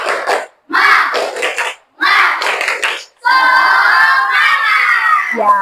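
Children in an Indonesian classroom doing the rhythmic 'tepuk semangat' spirit clap, three short bursts of group clapping and shouting followed by a sustained loud chant of voices, close and energetic.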